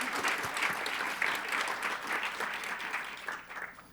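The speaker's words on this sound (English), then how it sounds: "One more round of applause for the committee." Conference audience applauding its committee, a short burst of clapping from a modest crowd, fairly quiet and fading out after about four seconds.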